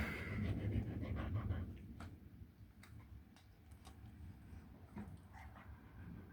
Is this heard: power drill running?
no